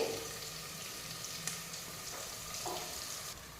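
Potato pieces fry in oil in a home kitchen pan, giving a soft, steady sizzle with occasional stirring scrapes and clinks, quiet and close, with no talk over it.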